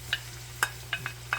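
Shrimp fry in hot oil in a pan for gambas al ajillo, with a low steady sizzle and a few sharp crackles and pops spaced irregularly, close and quiet.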